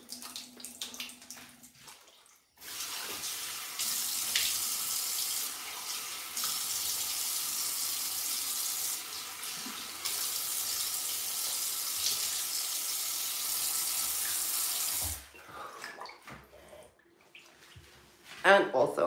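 Water runs steadily from a bathroom faucet during tooth brushing, a loud, continuous hiss of about twelve seconds. Brief handling noises come before and after it.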